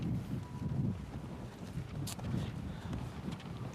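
Gusty outdoor wind buffeting the microphone in low rumbling bursts, with faint flapping as a folder catches the breeze.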